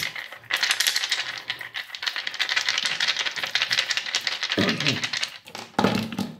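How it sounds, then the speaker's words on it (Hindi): A deck of cards being shuffled by hand, a steady papery riffling rattle with brief pauses and a couple of sharper flurries, close and fairly clear. "अभी हम शफल करते हैं।"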